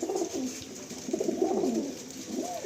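Pigeons of a Rajdhani pair, held in a cell, coo softly and repeatedly at close range, their low rolling calls overlapping in a quiet room without any talk.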